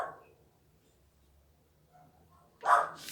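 A small female dog barks in a short loud burst near the end, after a quiet stretch with faint background noise.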